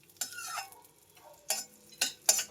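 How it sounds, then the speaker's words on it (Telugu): Cashews, almonds and raisins fry in ghee in a pan, with a few separate bursts of stirring and sizzling scrapes against a quiet background. "జీడిపప్పు బాదం కొంచెం కిస్మిస్ దోసపప్పు వేసుకోవాలన్నమాట కొంచెం వేగాలి మంచి గోల్డ్ కలర్లను వేపుకుందాం"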